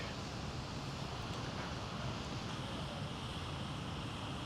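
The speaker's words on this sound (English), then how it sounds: "It's windy." Broad, steady rushing wind outdoors on a dark, wet November night in the Nordic countries, faint and constant, with a soft roar and no voices.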